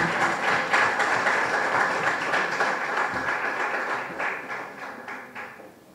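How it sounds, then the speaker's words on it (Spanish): A roomful of people applauding a congressman at a public talk on politics and citizenship, with steady moderate clapping that gradually thins and fades out. "Un fuerte aplauso para el congresista Manuel Damba."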